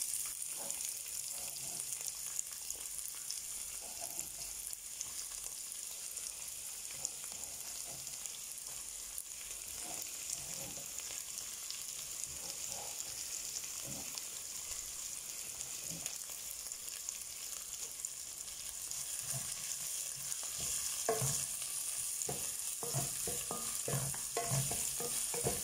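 Onions for sopas sauté in a pot with a steady, soft hiss of frying, broken by scattered scraping taps from stirring that grow busier toward the end; no voices.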